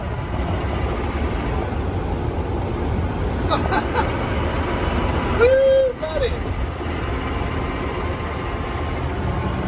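A supercharged 2008 Range Rover Sport drives along with a steady, loud engine and road rumble throughout, while someone shouts briefly partway through and faint talk sits under the noise.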